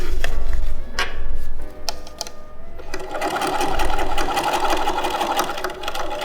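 A sewing machine stitching fabric for a square bag runs in fast, steady mechanical bursts, with short pauses early on and then a continuous whirring run.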